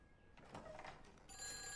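A telephone bell rings in a comedy sketch, a short bright ringing burst that starts quietly and grows louder near the end, against a soft background.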